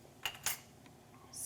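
A metal teaspoon clinks twice against a measuring cup or dish while measuring ingredients for cooking. The two bright, quick strikes are close together, followed by faint kitchen clatter.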